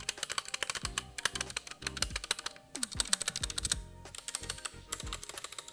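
Fast typing on a Rexus Daxa M84 Pro mechanical keyboard with Gateron switches and thinly factory-lubed stabilizers: close, crisp key clacks in rapid uneven bursts, with brief pauses between runs.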